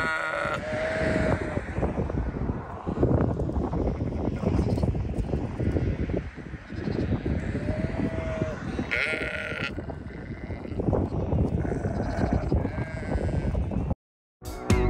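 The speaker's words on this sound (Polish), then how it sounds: "a jej centrum zajmują rozległe pastwiska, na których wypasa się owce" Sheep bleating on open pastures of Texel island in the Netherlands: several loud, wavering bleats near and farther off, repeated over steady wind rumble across the field.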